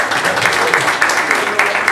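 Audience at a monologue comedy contest applauds warmly, with loud, dense, close clapping that pulses steadily without pause and no voices over it.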